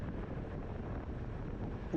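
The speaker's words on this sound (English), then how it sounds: "this is kind of windy through here too" Wind rushes past during a criterium bike race, a low, steady buffeting roar of moderate loudness with no voices.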